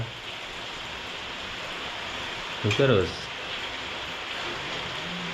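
Steady rain falls outdoors during a downpour, a constant even hiss throughout, with a brief voice speaking partway through over the rain.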